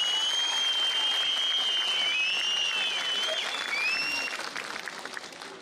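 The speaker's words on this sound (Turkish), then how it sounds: "Sevgili İl başkanımıza çok kuvvetli bir alkış rica ediyorum." Crowd applause at an outdoor political rally in Silifke, steady dense clapping with whistles on top, loud and sustained before tapering off toward the end.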